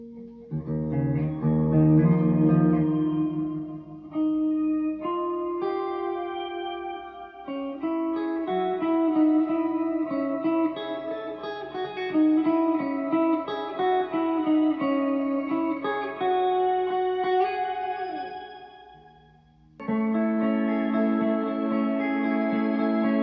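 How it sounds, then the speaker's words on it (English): An electric guitar runs through a shimmer reverb effect, sustained chords ringing with a bright, washing tail, playing loudly and continuously for over twenty seconds with a brief dip near the end. "That's the shim reverb."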